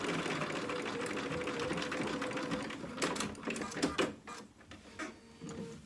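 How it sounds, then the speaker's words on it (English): A sewing machine runs steadily, top stitching along the long side of a small fabric D-ring holder for a dog outfit, then the stitching breaks into shorter bursts with clicks near the end. "And then sew back top stitch along the other side, long side here"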